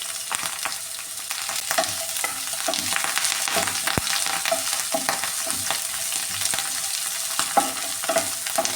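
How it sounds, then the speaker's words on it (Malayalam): Onion, green chili and curry leaves are sautéed with dried red chilies in a pan for a mezhukkupuratti, giving a constant close sizzle broken by frequent scraping and stirring strokes, with no voices. "ഇതൊന്ന് വഴറ്റിയെടുക്കാമേ"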